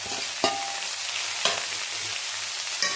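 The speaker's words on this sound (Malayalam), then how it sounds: "നന്നായിട്ട് ഒന്ന് വഴറ്റിയെടുക്കാം ഉപ്പ് ചേർത്തിട്ട് വഴറ്റുക" Green chilies, ginger and onions sautéing in a pan, a steady close sizzle, with three sharp spoon strikes against the pan as they are stirred.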